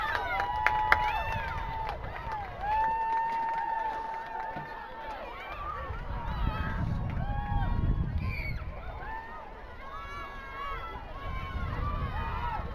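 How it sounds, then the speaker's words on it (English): A large crowd at a girls lacrosse game on senior night cheers and shouts steadily for several seconds after an overtime goal, with voices and whistles rising and falling throughout. "Big crowd on hand cheering on the girls lacrosse team as they pull this one out in overtime."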